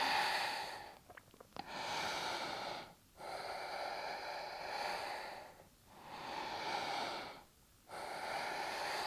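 Slow, deep breathing during a downward dog pose in a strong vinyasa yoga flow: long airy inhales and exhales close to the mic, separated by brief pauses.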